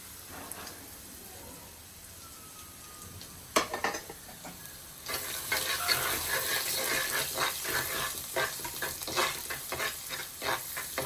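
Dried red chillies dropped into hot oil in a pan for green mango rasam, quiet at first, then a sudden burst of sizzling and frying crackle that keeps going, close and lively.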